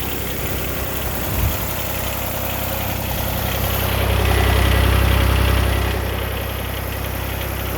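A car engine idles steadily after a cold start on a chilly morning, a continuous low rumble that holds even throughout and swells slightly louder midway, with no throttle blips.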